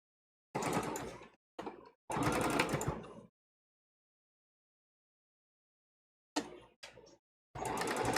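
A sewing machine stitching fabric runs in short bursts of steady mechanical whirring, several runs separated by silent pauses, close and clear with no talking.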